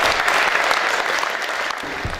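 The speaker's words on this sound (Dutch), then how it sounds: "Daarom graag jullie applaus en aandacht voor Gerben Nap uit Utrecht" Audience applause for Gerben Nap of Stichting Stro at a local-currency talk in Tilburg: steady, dense clapping from a seated crowd, even in loudness, lasting a couple of seconds.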